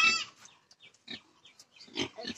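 A farm pig grunts in short, separate bursts, several low rough snorts spaced irregularly with quiet gaps between them, heard close and alone.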